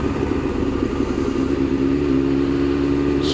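A BMW F750GS motorcycle engine on a test ride hums steadily and loudly at a constant mid pitch with a faint rev near the end, heard close with no talking.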